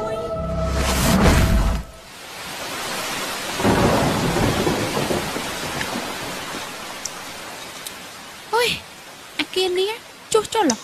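A thunderstorm with heavy rain opens with loud thunder rumbles, then steady pouring rain hisses throughout, as in a ghost story scene, with brief voice-like bursts near the end.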